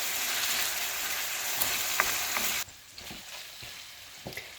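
Minced meat keema frying in a karahi, a loud steady sizzle that drops sharply partway through, followed by quieter frying with occasional stirring scrapes and clicks.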